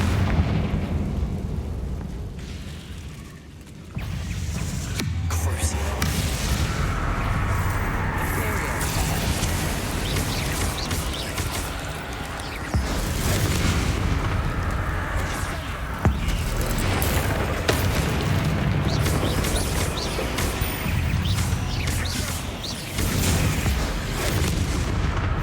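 Confringo fire spell explosions in Hogwarts Legacy, repeated booming blasts and crackling bursts through a long stretch of loud, busy combat noise, with spoken voices occasionally over the top.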